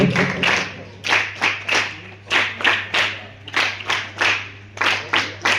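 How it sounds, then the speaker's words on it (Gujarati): Rhythmic clapping at a one-day residential school music camp, a small group applauding in a steady patterned beat of repeated bursts, close and fairly loud over a low hum. "તાળીઓથી આપણે આ અભિવાદનને સન્માનિત કરીશું."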